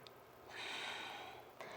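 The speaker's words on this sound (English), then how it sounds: "And we're breathing. One more breath." A single soft, breathy exhale drawn through the nose during a yoga exercise for the low back, faint and close, with no talking.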